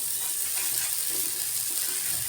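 Water poured into a pan of hot oil with turmeric and chili powder, a steady broad hiss and sizzle that holds evenly throughout.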